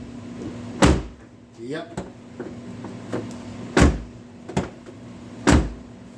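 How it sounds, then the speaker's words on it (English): A 2009 Dodge Caliber car door is shut several times, giving four or five solid, thudding slams at irregular intervals, close and loud, with a brief spoken word between them. "That door closes nicely now."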